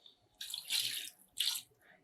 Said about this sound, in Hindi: अब हमने करना क्या है कि हमने इसमें पानी डालना है।